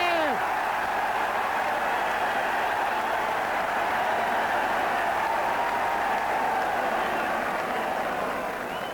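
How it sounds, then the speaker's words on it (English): Roaring hurling crowd at the 1980 All-Ireland hurling final between Galway and Limerick, a broad, steady wall of cheering and clapping appealing for player Iggy, loud and sustained. "The crowd appealing for Iggy."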